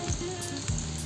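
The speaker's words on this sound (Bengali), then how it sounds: "একে একে আমি সবগুলোকেই ভেজে নেব।" Stuffed flat beans (shim) frying in hot oil produce a steady close sizzle with faint stirring and bubbling, continuous and fairly loud with no voices.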